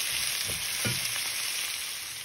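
Onions are stirred and fried in a pan during preparation of a goat mutton curry, a steady close sizzle with a few soft scraping strokes of the spoon near the start, and no voices.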